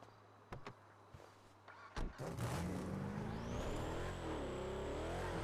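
The Sultan car's engine in a video game, with a couple of door-like clunks, then the engine starting and revving up into a loud sustained roar with a rising whine.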